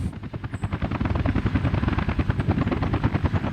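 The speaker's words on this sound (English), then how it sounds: "you choose to use the helicopters to bring stuff." Helicopters flying in the city-building game Workers & Resources: Soviet Republic, a loud, steady rotor thump with fast rhythmic chopping and a deep engine drone that runs throughout without talk.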